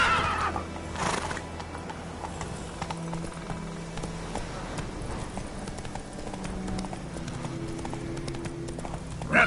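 Roach the horse in The Witcher 3, with rhythmic galloping hooves throughout and a loud neigh near the start, game ambience underneath.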